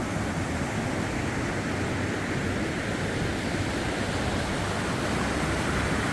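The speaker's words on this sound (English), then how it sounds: "And we have the beautiful river, which I didn't even know was here until we walked over this bridge." A river rushes beneath a bridge in St. Ulrich, Italy, making a constant dense roar of moving water that holds level and close throughout. There is no speech.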